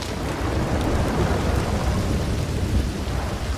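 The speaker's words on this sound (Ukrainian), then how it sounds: "дощ тут просто проливний, прямо заливний" Heavy rain and rolling thunder in the video game Red Dead Redemption 2. A loud, dense downpour continues throughout, with low thunder rumbling underneath and no talking.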